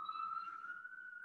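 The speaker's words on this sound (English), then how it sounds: "Oh, I got a siren going here." A siren sounds outside with a steady, high, sustained tone that drifts slightly in pitch. It is moderately faint and heard on its own.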